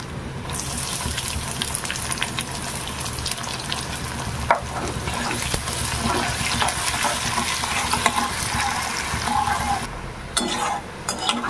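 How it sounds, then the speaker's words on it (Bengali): Chopped onion dropped into oil already frying crushed garlic, a dense close sizzle and crackle with spoon scrapes and clinks of the pan, briefly quieter near the end before the frying resumes. "এবার দিয়ে দেবো পেঁয়াজ কুচি"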